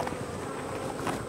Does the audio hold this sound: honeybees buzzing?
yes